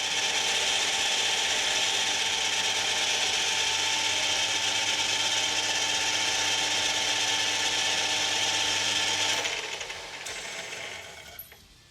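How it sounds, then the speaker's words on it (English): Loud, steady metal cutting on a part for a bolt-action retractable scribing tool, a continuous grinding rasp that runs for several seconds before winding down and stopping near the end. "I'll come in at an angle and cut a really wide chamfer, and then round it all off until it looks right with a file."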